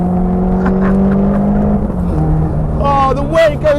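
A Caterham 310R accelerates through corners, its engine droning loud and close, dipping and rising again as gears change, with a person talking over the engine toward the end.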